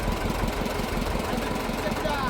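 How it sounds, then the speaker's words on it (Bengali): A trawler's engine runs with a steady low chugging throb on the Pashur river, several trawlers setting off together; the engine is moderately loud and continuous. "ট্রলার চালু করলাম, আমরা কয়েকটি ট্রলার একসাথে যাচ্ছি"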